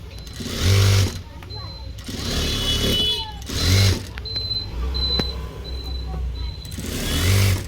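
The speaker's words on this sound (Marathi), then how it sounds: "एक पॉईंटवरून वरून शिलाई मारून घेणार आहे" A sewing machine stitches a blouse in several short bursts, its rapid mechanical whir starting and stopping close by, while someone talks in between and over the runs.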